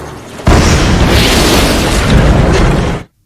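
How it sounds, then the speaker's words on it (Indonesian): A landmine explodes in an action film: a sudden loud blast that rumbles for about two and a half seconds, then cuts off abruptly. "benar saja ranjau terlihat diledak"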